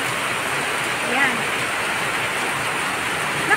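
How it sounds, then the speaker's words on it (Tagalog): Heavy rain pours in a dense, steady hiss, with a brief voice faintly heard beneath it. "ang lakas ng ulan"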